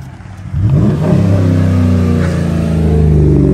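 Dodge truck engine revving up hard from a low idle, its pitch sweeping upward and then holding a loud, steady rumbling drone, close by with no talk.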